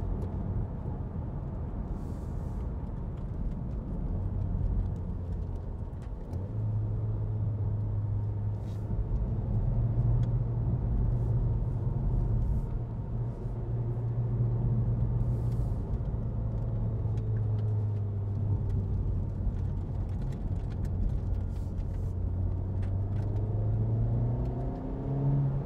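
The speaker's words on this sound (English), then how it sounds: "Lovely engine noise." A car engine runs steadily while driving on a road, giving a continuous low rumble with a throttle blip on downshifts and a rising hum as it is given gas, close and loud with no talking.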